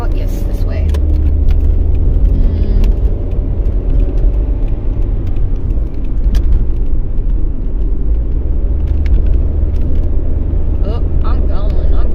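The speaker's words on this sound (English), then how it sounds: "I hate that noise when the back windows are down." Car interior while driving with the back windows down, a loud, steady low rumble of wind buffeting and road noise filling the whole stretch, with voices talking over it.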